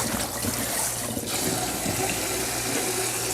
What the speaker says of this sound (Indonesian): Ini kita cuci dulu 3 kali.